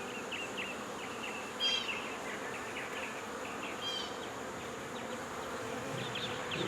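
Honeybees buzz steadily around an open hive box that holds brood and pollen-carrying foragers, a dense close drone with brief louder passes of individual bees near the ear.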